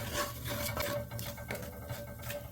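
A utensil scrapes browned hamburger meat off the bottom of a pan to make gravy for homemade Salisbury steak, producing a steady rasping, rubbing sound with short repeated strokes and no talking.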